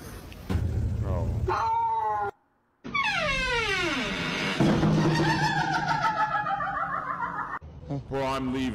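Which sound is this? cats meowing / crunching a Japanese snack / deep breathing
cats meowing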